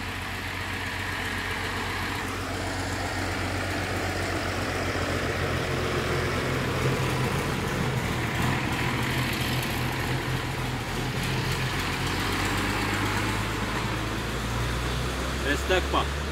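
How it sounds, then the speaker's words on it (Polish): A big tractor engine drawing near on a night road, a deep steady rumble that builds slowly and holds throughout, with faint voices underneath. "Big traktorka coming."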